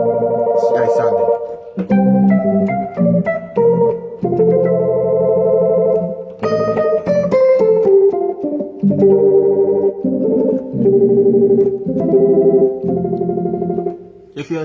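Singing voice run through a vocal effects processor with a fast tremolo set to a 1/32 rate at full volume, giving sustained sung notes a rapid pulsing flutter across a continuous melodic phrase, loud and close.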